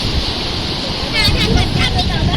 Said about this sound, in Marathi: मित्रांनो आता भरती चालू आहे भरती